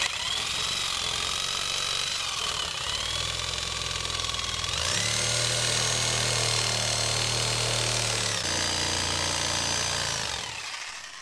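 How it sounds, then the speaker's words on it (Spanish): A reciprocating saw cuts through EPS polystyrene foam with a loud, continuous buzzing rasp that shifts pitch as the cut goes on, then tails off at the end, with no talk over it. "Os presento a la sierra de sable. Podéis sacar un gran rendimiento a la hora de cortar el EPS o el porex."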